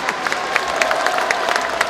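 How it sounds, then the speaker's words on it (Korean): An audience at a Korean political party rally speech breaks into brief, loud applause, with dense, rapid clapping from a nearby crowd. "박수 좀 크게 치겠습니다."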